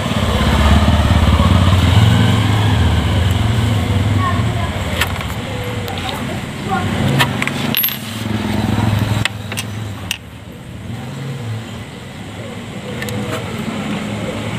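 A Piaggio Liberty scooter that will not start, its engine cranked on the electric starter in loud close bursts, with a person talking between attempts.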